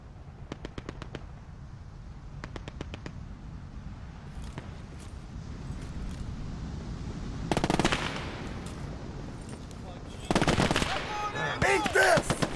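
Machine gun fire in the Gates of Hell war video game rattles in short rapid bursts, mixed with louder explosive blasts and distant shots.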